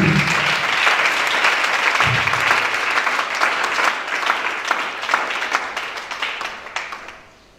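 A church congregation applauding for Jesus, a dense wash of many hands clapping loudly and continuously before fading out at the end, with a brief voice underneath early on.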